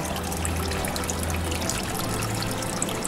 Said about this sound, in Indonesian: Ini di bagian depannya cuma 1 pancuran, dan ini cukup deras airnya